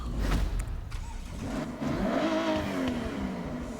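A twin-turbo car engine in Forza Horizon 6, driven in a snowy mountain race event, revs and accelerates with a rising, droning tone, loud and continuous.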